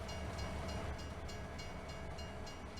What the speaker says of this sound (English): Bad enough we got the train crossing making noise.